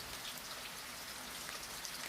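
Rain patters steadily against a window, a dense, even hiss of fine drops that stays soft and unbroken throughout, with no voices.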